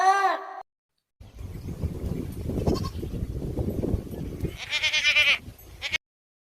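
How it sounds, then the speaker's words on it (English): A goat bleats in a long, wavering, loud cry near the end, preceded by a short bleat at the start and a stretch of low rumbling noise in between. "G for goat."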